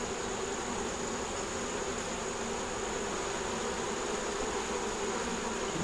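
Honey bees buzz steadily around a hive during a honey flow, a dense, even drone that holds for the whole stretch at a moderate, close level with no voices.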